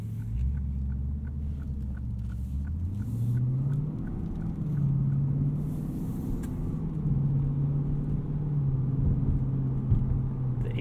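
A 2019 Lexus GS F 10th Anniversary Edition with an 8-speed transmission cruising at low revs, its low engine drone shifting pitch smoothly and then holding steady, heard from the cabin with no talk.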